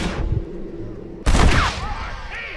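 A single sharp gunshot in Red Dead Redemption cracks loudly after a stretch of low murmuring voices, followed by a brief ringing tail and fading echoes.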